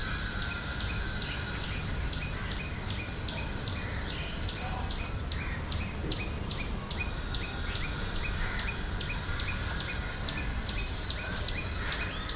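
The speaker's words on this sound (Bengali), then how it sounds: "অনেক পাখির শব্দ শুনতে পাচ্ছি আমরা" Many birds call from the trees at a shaded spot near the Kobi Nazrul Institute, with rapid, regularly repeating high chirps running throughout over a dense, steady outdoor background.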